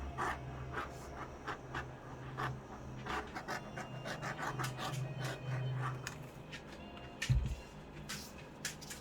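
A dog pants steadily in quick rhythmic breaths close by under a person's legs indoors, faint and soft, with a brief thump near the end.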